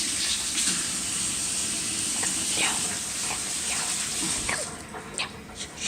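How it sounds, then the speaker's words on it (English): Hands being washed under a running kitchen tap, a steady broadband rush of water with small splashes and rubbing near the end, close and alone. "I wash my hands again to kill any germs"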